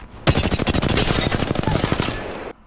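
An R-301 rifle in the Apex Legends game fires one sustained full-auto burst of about two seconds, rapid evenly spaced sharp cracks, loud and close, then a sudden stop.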